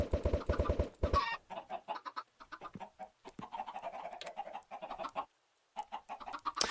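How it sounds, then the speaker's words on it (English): Chickens in a video game cluck in short scattered bursts, fairly faint, after a brief loud buzzing game sound at the start, with a short silent gap near the end. "I'm just gonna go kill all of those chickens down there."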